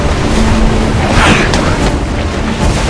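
A ship's cannon fires in the Assassin's Creed IV Black Flag video game, a muffled boom rising from a constant rumble of ocean and wind.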